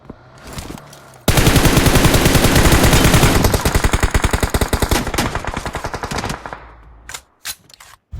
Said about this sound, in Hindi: अब ये गोली चली है इस सामने वाली पहाड़ी से